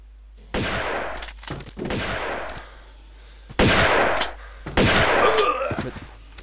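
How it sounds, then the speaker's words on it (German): Shotgun blasts in the Tomb Raider video game ring out in four loud, booming shots spaced a second or two apart, each with a long echoing tail and a brief mechanical clack. "Dafür brauchen wir jetzt die Schrotflinte."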